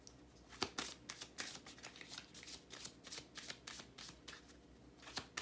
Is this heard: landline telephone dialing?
no